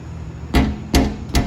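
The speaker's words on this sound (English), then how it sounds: "I had to hammer that little crease in there just so I can clear the steering column" Three sharp hammer blows strike an aluminum go-kart floor to form a crease, evenly spaced and loud, each a bright metallic knock with a short ring.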